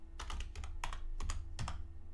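Terminal command being typed on a computer keyboard: a steady run of close, crisp key clicks in quick irregular bursts, with no talk.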